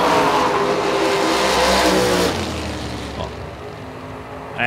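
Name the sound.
drag race run, S10 pickup truck vs 34 Chevy Roadster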